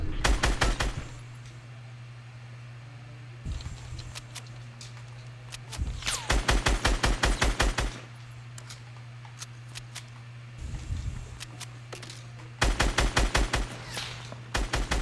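Video game gunfire from a shooter tournament match comes in rapid automatic bursts, several clusters of sharp cracks separated by short pauses, loud and close with no talk over it.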